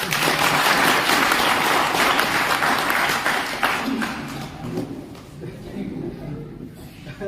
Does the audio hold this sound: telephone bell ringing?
no